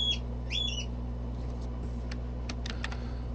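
Pet birds in a bird room give two sharp squawks at the start, followed by faint clicking and tapping sounds in a quiet room with a low background hum.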